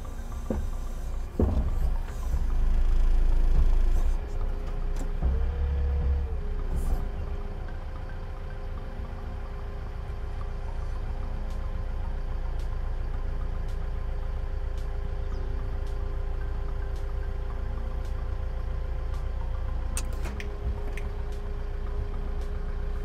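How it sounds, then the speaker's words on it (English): A Manitou MT625H telehandler's engine runs steadily while the machine lifts its rear under a load on the front, with a heavier surge in the first few seconds before settling into a constant mid-level drone. No one speaks. "By pushing the overload switch, we will force the machine to lift its rear part with the load we placed in the front part."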